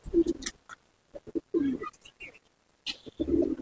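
Malwai pigeons in a loft give several short, throaty coos in bursts between quiet pauses, close and fairly soft, with a person speaking briefly nearby.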